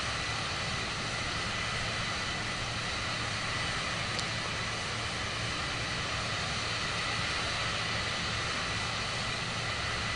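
An airplane engine drones steadily and loudly while the aircraft circles around to land in Microsoft Flight Simulator 2024, a constant broadband roar with no pauses.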